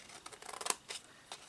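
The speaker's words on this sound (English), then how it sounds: "So let's just snip off some little wedges." Scissors snip small wedges into the scored flaps of a paper box cover, a handful of quick, crisp, faint cuts close by, with no talking.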